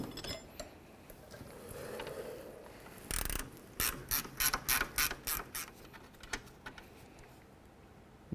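A ratchet works rear brake bolts loose on a 2007–2012 Nissan Altima, starting with faint low rumbling, then delivering a run of sharp, evenly spaced ratcheting clicks up close before fading back to quiet background noise.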